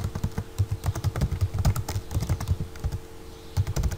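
Rapid keystrokes clatter on a computer keyboard, close and steady, with a brief pause before typing resumes.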